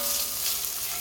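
Garlic fries in a pan for a meat sauce, giving a dense, steady sizzle and hiss up close for a brief moment, with no voices.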